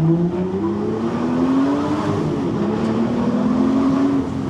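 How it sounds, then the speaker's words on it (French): A powerful Aston Martin V12 Vantage S engine roars loudly and continuously, its pitch climbing steadily as it accelerates hard, with no voices over it. "Le moteur, il est magique."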